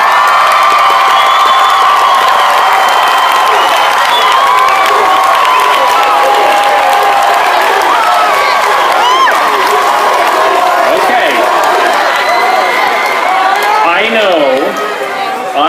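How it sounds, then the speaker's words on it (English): A large student audience at a heritage music festival applauds and cheers band, orchestra and choir directors, a dense, loud roar of clapping mixed with whoops and shouts that holds steady throughout. "Let's give them a round of applause."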